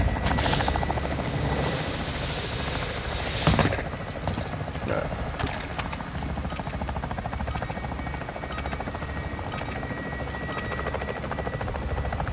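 A steady helicopter rotor drone in Call of Duty Modern Warfare 2 fills the scene without a break, with a brief louder bump partway through and faint game background noise.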